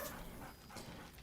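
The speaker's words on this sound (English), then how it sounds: "Scratch barks merrily in something like agreement" Scratch, a dog in a video game, lets out a short, fairly quiet bark or yelp over a steady game soundscape, close and brief.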